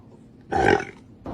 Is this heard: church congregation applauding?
no